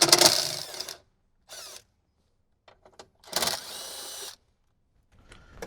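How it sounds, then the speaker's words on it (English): A power tool with a 10mm socket spins out bolts from the dash of a 2007–2014 Jeep JK Wrangler, giving short whirring bursts separated by silences, with a longer run near the start and another midway. "grab our 10mm socket, remove the two 10mm holding the blocker plate on."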